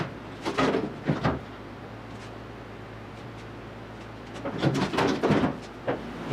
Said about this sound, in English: So I'm gonna drop the bonnet now,